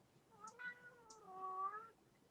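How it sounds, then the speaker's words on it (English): A pet cat gives one drawn-out, rising and falling meow, fairly close and quiet against a soft background hush, with no one speaking. "I love this cat meowing"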